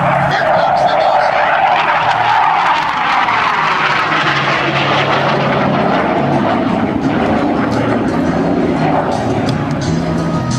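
A Boeing T-45 Goshawk jet trainer makes an airshow flyby, a loud sustained jet roar that swells and sweeps in pitch as it passes, with an announcer talking over it.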